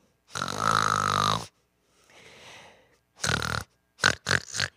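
A person mimics snoring: a long rasping snore, a soft breathy exhale, then a short snort and a quick choppy series of snorts.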